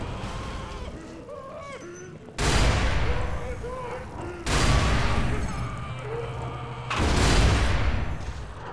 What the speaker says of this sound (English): Ow, damn those grenades.